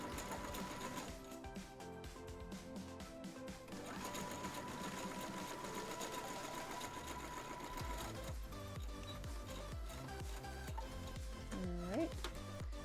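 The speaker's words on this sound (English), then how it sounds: "we're going to stitch all the way along here" A sewing machine runs in long, fast stitching bursts along a fabric seam while a person talks over the rhythmic whirring, pausing briefly before resuming.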